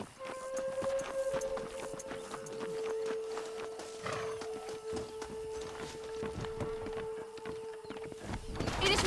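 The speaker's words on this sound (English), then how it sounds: "They are good horses." Horses pulling a stagecoach in the video game Red Dead Redemption, with steady clip-clop hoofbeats under a sustained musical drone and ambient game sound throughout.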